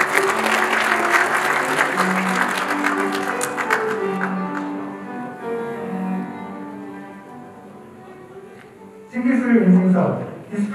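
Clapping from the audience at a Korean new technology certification award ceremony, loud and dense at first, then thinning and fading over several seconds beneath sustained tonal sound, before a voice comes in near the end.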